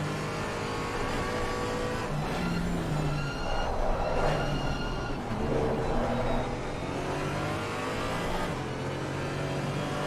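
Several race car engines from Assetto Corsa Competizione roar together in a Mercedes and Porsche endurance battle, high revving notes rising and falling steadily across the whole stretch, loud and close with no talking.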